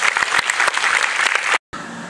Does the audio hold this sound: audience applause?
yes